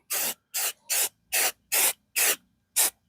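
Spray paint hisses from an aerosol can onto guns in seven short, evenly spaced bursts, each a loud, close, sharp hiss separated by silence.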